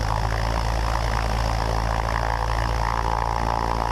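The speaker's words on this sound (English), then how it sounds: "so let's get her up to 1700 RPMs." A Cessna 172 engine runs up to 1700 RPM while holding short before takeoff, giving a steady, loud propeller drone with a constant low hum and no change in pitch.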